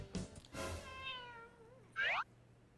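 A cat meows once with a drawn-out, falling cry, then gives a shorter, sharper second meow a moment later, heard close in an indoor kitchen during baking.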